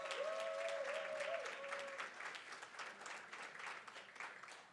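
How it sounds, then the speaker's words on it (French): Audience applause fills the room at an awards gala, a steady wash of clapping that fades slightly toward the end, with a brief tonal whistle or feedback sound early on. "est-ce qu'on peut lui faire un tonnerre d'applaudissements"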